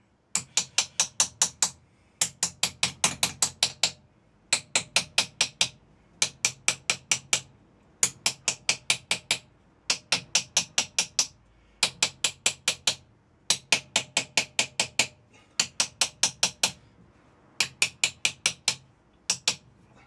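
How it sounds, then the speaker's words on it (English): The end of a screwdriver taps repeatedly on a metal-casting piece in quick bursts of about six to eight sharp, bright knocks, pausing between bursts, close and loud with no talk. "now we give that a tap with the end of the screwdriver"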